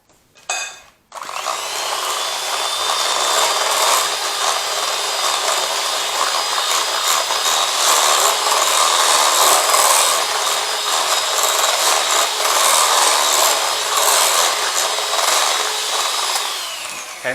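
A food processor whizzes lemon drizzle cake mixture, a loud continuous high motor whirr that starts abruptly after a brief pause and runs steadily for about fifteen seconds before winding down.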